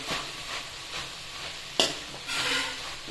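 Okra cooked with masala for bendekai palya is stirred in a frying pan, a steady sizzle broken by scraping strokes and one sharp clink of the spoon against the pan.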